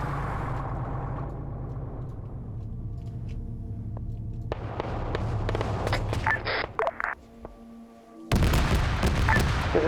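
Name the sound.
gunfire from a marksman in a video game (Arma)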